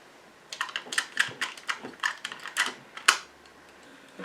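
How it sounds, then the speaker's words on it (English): Clicks and clacks from a cassette tape being loaded into a Sony Walkman WM-F65 with a melted drive belt, a quick run of sharp plastic snaps close up with one louder final click, no talking. "let's pop a tape in"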